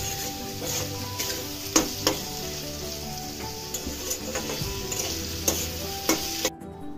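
Paneer and sugar lightly frying in a pan give a soft, steady sizzle, with occasional clicks and scrapes from stirring close by.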